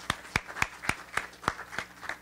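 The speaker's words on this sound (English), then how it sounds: "It's not often you get applause for just walking to the microphone." Applause at a scientific conference as a speaker walks to the microphone, heard as evenly spaced, fairly sparse claps in a steady rhythm, with no voices over them.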